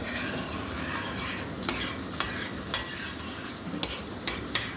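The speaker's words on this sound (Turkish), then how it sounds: "Böyle biraz mayasını çarpayım, karıştırayım onu." Onions frying in a pan while a mixture is stirred, a steady close sizzle broken by several sharp scraping strokes of the spoon in an irregular rhythm.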